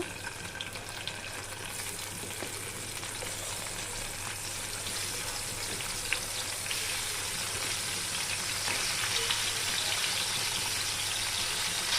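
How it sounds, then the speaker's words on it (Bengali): Fish seasoned with salt and turmeric fries in hot oil in a pan, giving a soft, steady sizzle that runs evenly throughout with no voices. "এখন আমি সুন্দর করে মাছটা ভেজে নিব"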